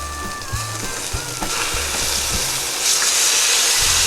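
London broil steak sizzles steadily on a grill, a dense close frying hiss that swells louder near the end, with a few low thumps and a faint whistle-like tone early on.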